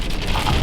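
Heavy rain pouring down outdoors beside an old Ford F150 pickup truck, a loud, dense, continuous hiss of drops striking surfaces close by.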